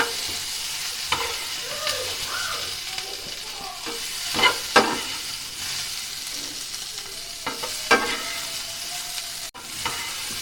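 Vegetables for paneer tikka masala fry in a pan with a steady, close sizzle. Scraping stirs and a few louder clatters break in now and then, and no one speaks.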